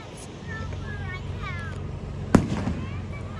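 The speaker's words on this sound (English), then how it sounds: "These fireworks are amazing." Fourth of July fireworks at an outdoor display: faint whistling streaks rise, then one loud, sharp burst cracks out, trailing a short sparkle of crackles while people murmur in the background.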